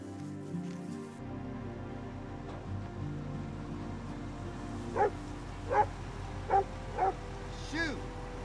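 Hunting dog yipping and whimpering in a few short, sharp bursts near the end, set against a steady outdoor background with some low talk.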